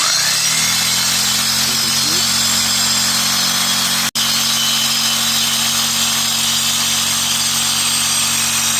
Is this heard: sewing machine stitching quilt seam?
no